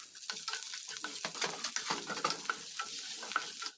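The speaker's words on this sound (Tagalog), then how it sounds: "umpisa na natin ditong igisa yung luya, sibuyas at bawang" Ginger, onion and garlic sautéing in hot oil, a dense crackling sizzle with irregular spatula scrapes and clicks against the pan, close and continuous.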